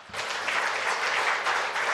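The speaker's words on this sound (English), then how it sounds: "So let's give Utah a round of applause" Audience at an International Women's Day breakfast in Provo, Utah, breaking into steady, full applause that holds for the whole two seconds.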